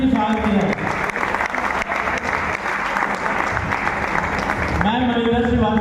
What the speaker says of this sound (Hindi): इनको जोरदार ताली से भी स्वागत किया